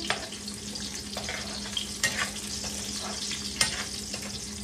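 Chicken sizzles and fries steadily in hot oil for a Filipino pochero, with a constant crackling hiss and a few sharper pops and stirring clatters close by.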